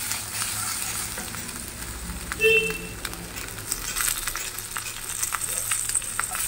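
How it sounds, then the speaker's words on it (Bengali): Salted ingredients with fresh green chilies fry in a pan for a mango paneer dish, giving a steady, close sizzle with light stirring scrapes and no voices. "সব কিছু ভালোভাবে ফ্রাই করে নিচ্ছি"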